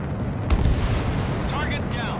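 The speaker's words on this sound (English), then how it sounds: "Mage 2, missile away." A missile launch and explosion in the Ace Combat 7 jet combat game sounds as a deep, roaring rumble with booming low-end bursts and whooshing sweeps over a dense background, while radio voices talk over it.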